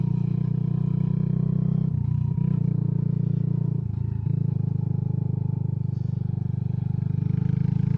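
A Mash Black Seven 125cc motorcycle engine drones steadily while riding through a roundabout, a close, continuous low hum with two brief dips in tone partway through.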